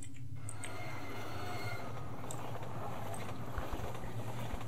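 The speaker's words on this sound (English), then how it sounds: "as if by magic, the train appears" Train arriving in the video game NostalgiaVille: Cosmonaut, a steady low rumbling rail drone with faint metallic squeals and clanks, continuous and fairly full throughout.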